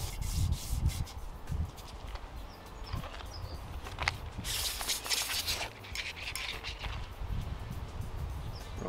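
Wooden clock hands for an electromechanical clock are sanded with 400 grit sandpaper, a steady close rubbing and scratching that runs continuously with brief strokes, without talk.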